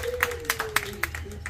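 Scattered audience clapping for a trumpet soloist at a big band concert, a few separate claps standing out over a steady sustained tone.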